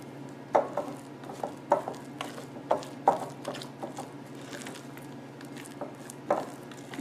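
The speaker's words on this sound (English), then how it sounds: "And we're going to mix it all together." Cake batter for a cardamom date walnut cake is stirred and mixed in a bowl, giving irregular soft clinks and scrapes of the utensil against the bowl over a steady low hum, with no talking.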